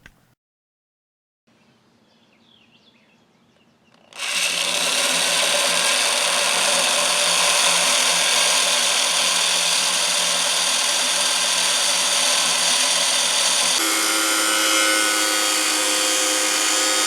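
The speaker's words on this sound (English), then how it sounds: "This nut is an apparent set screw that I'm going to have to drill out" A power drill bores out a set screw on the shaft of a 20-year-old Snapper rear-engine riding lawnmower. After a quiet start, a loud, steady high whine runs continuously and shifts pitch slightly near the end.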